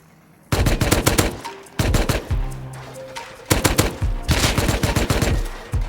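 Gunfire rings out in a snowy survival video game, with loud rapid bursts of automatic shots separated by short pauses across about six seconds.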